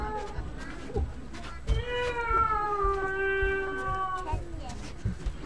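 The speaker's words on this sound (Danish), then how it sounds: "Åh, en kat. Jeg elsker katte." A single long, drawn-out meow with a rising and falling pitch sounds in the middle of a live stage musical performance, with bumps and voices around it.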